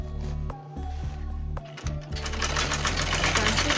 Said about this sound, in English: This is to make the sewing machine move on the leather,